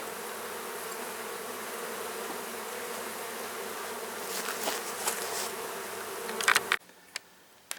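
Honey bees buzzing around an open hive, a dense, steady hum close by, joined near the end by brief handling clatter before it cuts off sharply.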